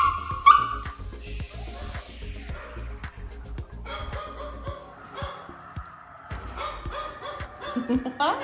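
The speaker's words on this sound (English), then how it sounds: "There's a dog." Standard poodle puppy at a vet visit, giving repeated short barks and yelps with a whimper, close and fairly loud, while people talk nearby.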